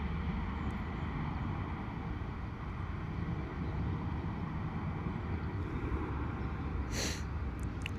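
Airliner taking off from London Luton Airport in wet, windy weather, its engines a steady, loud, broadband roar throughout, with gusts of wind buffeting the microphone and no voices.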